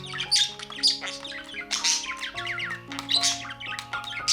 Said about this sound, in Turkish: Sürekli dışarıdaki kuş seslerine karşı çağrı sesi gönderir kendi kendine kur şarkıları söyler.